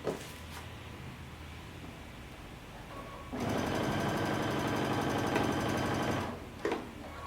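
A sewing machine stitches a pants waistband with a 5/8-inch seam allowance. It runs in one loud, steady burst of about three seconds, with quieter handling before and after.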